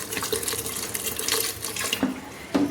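Tap water runs steadily into a pot of banana flowers seasoned with turmeric and salt, a close, continuous splashing stream with a few brief gurgles near the end.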